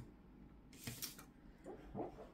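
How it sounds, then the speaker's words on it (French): A sleeping dog lets out a few soft muffled yips and whimpers, brief and close, separated by quiet pauses. "bruit que vous entendez, c'est rien, c'est mon toutou qui rêve."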